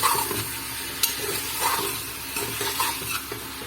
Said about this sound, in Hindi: अब हम इसके अंदर अपना चिकन डाल देंगे और चिकन डाल के हम इसको तेज आंच में 5 से 7 मिनट फ्राई करेंगे